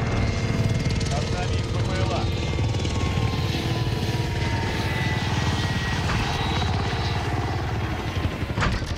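Military aircraft passing overhead during an online Call of Duty Modern Warfare match: a loud, steady rotor-and-engine roar fills the whole stretch, with players talking over it.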